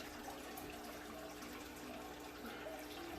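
Tap water runs in a steady, continuous hiss as aquarium plants are rinsed under it at a sink, close and unbroken for a few seconds.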